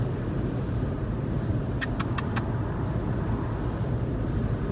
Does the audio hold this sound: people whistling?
no